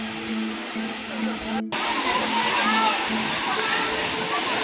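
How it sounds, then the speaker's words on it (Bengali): A waterfall near Bandarban rushes as a steady, loud, broadband roar of falling water, cutting out briefly before surging back close and continuous, with faint voices underneath. "পার হয়ে ওই যে ঝর্ণা দেখা যায় আমরা ঝর্ণার কাছে"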